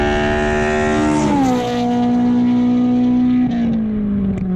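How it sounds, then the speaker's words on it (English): A Honda S2000 with an engine fault revs but tops out around 3000 RPM, its loud steady tone holding, dropping slightly, then settling and easing lower again, with no talking over it. "There is a problem with the engine also. It only hits like around 3000 RPM."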